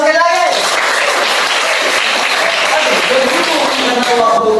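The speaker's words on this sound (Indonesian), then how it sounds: "tepuk tangan sekali lagi" A high school class claps and applauds continuously at close range, with a few voices calling out over the steady applause.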